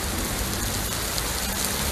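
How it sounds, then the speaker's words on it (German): Steady rain falls outdoors, a dense, even hiss of drops close by with no pauses. "dass es noch ein bisschen regnet"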